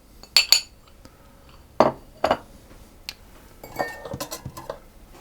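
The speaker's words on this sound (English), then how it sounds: "I want to mix in my baking powder and my spices and my salt into the flour" A spoon mixes baking powder, spices and salt into flour in a bowl for hot cross muffins, with several sharp clinks against the bowl and then a quicker run of light tapping and scraping.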